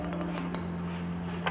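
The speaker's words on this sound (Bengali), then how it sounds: "আমি এখানে 2টো গ্লাস নিয়ে নিয়েছি আর গ্লাস দুটো রেডি করে নিচ্ছি" Two drinking glasses set out for aam panna, giving a few brief close clinks and knocks of glass over a steady low kitchen hum.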